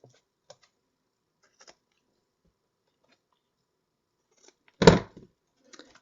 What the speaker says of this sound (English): trim the ribbon at an angle